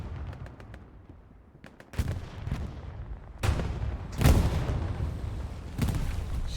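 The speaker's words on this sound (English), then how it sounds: "See some rockets coming in on the IS-1" Rockets striking an IS-1 tank in Hell Let Loose: several heavy booming impacts, some loud and close, spaced a second or two apart over a low rumble.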